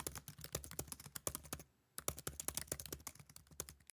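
Quick, quiet computer keyboard typing while code is written, a dense run of close key clicks with a brief pause midway, then more rapid keystrokes.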